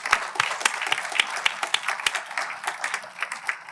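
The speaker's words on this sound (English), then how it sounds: "So one more round of applause for everyone." Conference audience clapping for the day's speakers, a brisk run of sharp, distinct hand claps from a modest crowd, fairly close and steady throughout with no voices over it.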